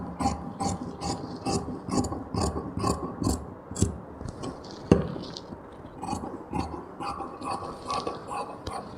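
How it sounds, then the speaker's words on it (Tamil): Scissors cutting plain blouse fabric, a close series of rhythmic snipping and rasping strokes with one sharper click midway, steady and unaccompanied by speech. "இங்கே தான் கட் பண்ணுறேன், பார்த்துக்கோங்க."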